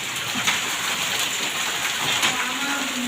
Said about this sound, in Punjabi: ਹੁਣ ਹਟ ਗਏ ਹੁਣ ਮੀਂਹ ਪੈਂਦਾ